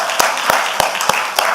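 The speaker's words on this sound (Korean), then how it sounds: "우리 서울영광교회 성도를 위하여 박수 한번 쳐주세요" A church congregation at a Sunday evening service of Seoul Gimpo Yeonggwang Church claps in a few sharp, scattered handclaps spaced irregularly, sounding sparse and fairly close rather than like a full ovation.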